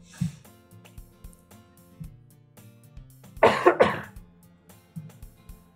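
Two quick, harsh coughs burst out right next to the microphone, loud over a faint, steady background of low tones.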